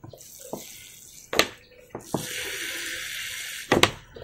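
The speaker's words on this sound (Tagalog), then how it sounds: "Babasahin ko muna ng tubig yung lupa bago natin na bunutin" Water from a tap running onto the soil of young tomato seedlings in a container, a steady splashing flow broken by a few sharp knocks and clunks, close and fairly loud with no talking.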